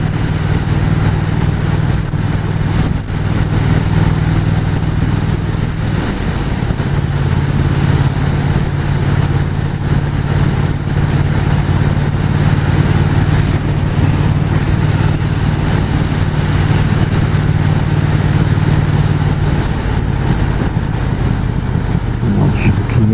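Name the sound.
Triumph Speed Twin 1200 motorcycle engine idling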